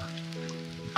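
Pork sizzles over a charcoal grill in a snow-covered mountain yard, a steady close crackling hiss lasting about a second with no talk.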